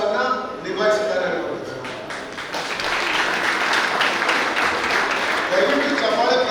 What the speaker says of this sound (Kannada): ದಯವಿಟ್ಟು ಚಪ್ಪಾಳೆ ಪ್ರವೀಣ್ ಹೆಗ್ಡೆಯವರ ಮಾತಿನ ಬಗ್ಗೆ ನೀವು ಹೊಡಿಬಾರ್ದು